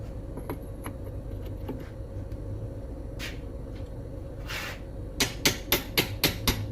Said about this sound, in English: I'm gonna hammer a little bit because it's so rusty.